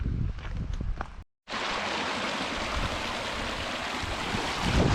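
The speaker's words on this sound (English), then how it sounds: "the little stream at this side is actually the one that we saw coming off way at the top of the hill there" Small hillside stream running down from peat bogs on a Scottish hilltop, a loud, close, continuous rushing babble after a brief dropout at the start, with some wind buffeting.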